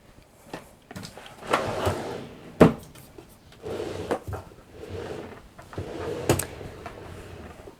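A drawer in a small laundry room office and craft room is slid open and shut, with close wooden scrapes, sharp knocks and clatter of contents across several seconds.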